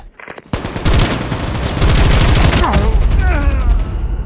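A sentry gun in Call of Duty Mobile fires a rapid, steady stream of loud automatic shots, with the burst starting after a short lead-in and continuing to the end.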